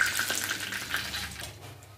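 Bay leaves and whole garam masala (cinnamon, cardamom, cloves) fry in hot oil for mutton curry, giving a steady soft sizzle and crackle with faint utensil clinks, close and continuous, no talking.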